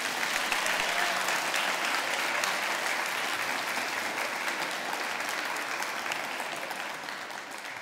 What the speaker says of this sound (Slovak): to si zaslúži jeden veľký potlesk pre vás a vašich pedagógov